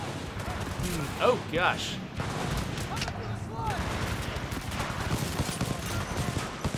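Gunfire and explosions from the Titanfall 2 video game crackle in rapid bursts with booming hits, mixed under a player's talking.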